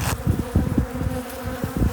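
A swarm of honey bees around heather honey hives buzzes loudly and close, a dense pulsing hum with individual bees flitting past.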